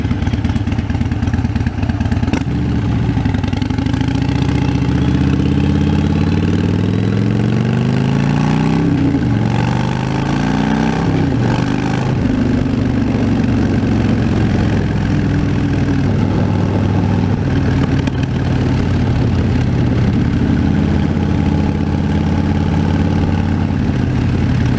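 A Harley-Davidson Fat Bob with straight-pipe exhaust idles close by with a deep, loping rumble, blipping the throttle into a couple of brief revs before settling back into its steady, loud idle.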